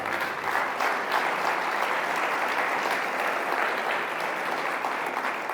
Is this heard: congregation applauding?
yes